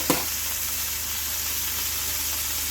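Meat searing in a hot pot, a continuous bright sizzle and hiss after a brief clatter at the start, close and steady with no talking.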